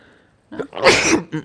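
A single sharp sneeze bursts out close by at a chess and bridge tournament, preceded by a brief breathy intake and followed by a short vocal sound.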